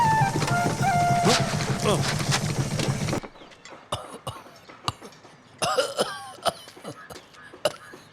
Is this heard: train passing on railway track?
no